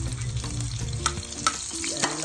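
Onion dropped into a hot pan with frog adobo, a close sizzling hiss of frying with a few scraping stirs, brief and without voices.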